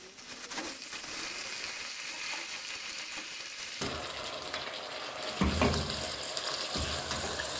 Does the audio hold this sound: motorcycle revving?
no